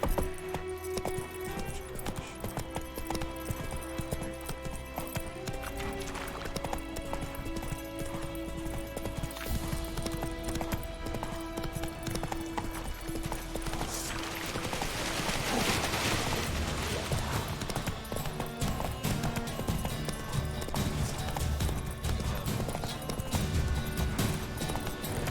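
Hooves of Roach, the horse in The Witcher 3, pound in a steady, rapid gallop that runs loud and continuous throughout, mixed with game ambience and music.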